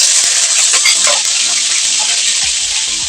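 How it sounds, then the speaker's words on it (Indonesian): Shallots sauté in a pan with a loud, steady, close frying hiss, scattered clinks and taps of a utensil against the pan running through it, and no talk. "Sekarang kita mulai menumis ya teman-teman"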